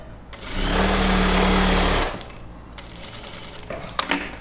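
A sewing machine runs steadily for about a second and a half, stitching a straight seam on scraps of knit fabric, then stops, leaving quiet handling noises and faint rustles.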